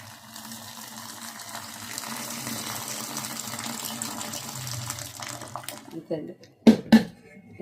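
Boiled basmati rice being drained through a strainer for chicken biryani, water pouring and splashing steadily close by, ending with a few sharp clatters of the pot and strainer.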